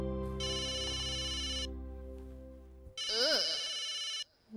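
A phone ringtone plays through an unanswered call, sustained melodic tones that pause near three seconds, resume as a warbling phrase, then cut off abruptly just before the end.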